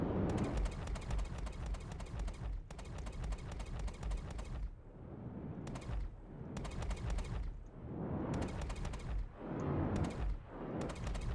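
Ship cannons on a Star Citizen Intrepid fire in long rapid-fire bursts during space combat, loud, dense and rattling, with short gaps between volleys and no talk.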